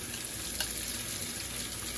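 Shredded chicken stir-frying in a hot wok with garlic, mushrooms and bamboo shoots, a steady loud sizzle with a brief stirring scrape, close and continuous, no talk.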